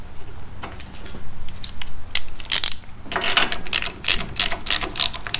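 Ratchet wrench tightens an NGK BPR4ES spark plug into a small engine, a loud, close run of rapid clicking pawl bursts with metallic creaks, no voices.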